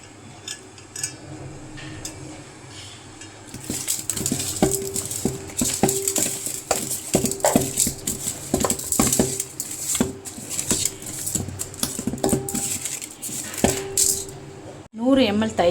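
Hands work chicken pieces and squeezed lemon juice together in a metal vessel while making Chettinad biryani. Wet squelches and irregular clinks against the pot repeat close by, alone and fairly loud.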